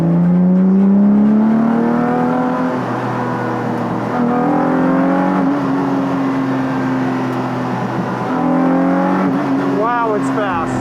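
A modified car accelerates hard at high speed, its engine note climbing steadily and loudly through the gears up close, with excited voices talking over it.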